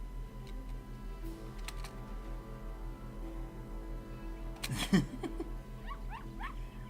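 Dog in a video game, a few faint barks near the end over a low steady hum, with keyboard-like clicks and ticks scattered throughout.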